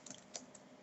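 An IP address being typed on a computer keyboard, a few faint, quick key clicks close by in a quiet room.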